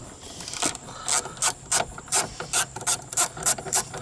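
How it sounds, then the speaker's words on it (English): A small 7mm socket ratchet turns out the kick panel screws on a Trailblazer, giving a close, loud, evenly repeating run of clicking strokes. "We'll grab our 7mm little socket. We got a couple screws we got to take off."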